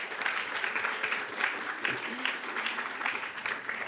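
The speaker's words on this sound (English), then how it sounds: "Let's get another round of applause for everybody who presented" Applause from a symposium audience for the presenters of a 3MP competition preliminary round, a steady wash of clapping at moderate level with no talk over it.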